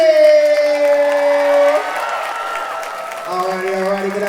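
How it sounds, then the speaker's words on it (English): A crowd cheers, whoops and applauds for dancer Kenji at a dance battle event, loud and lively, with voices rising over the noise and easing partway through. "And one more huge round of applause for Kenji!"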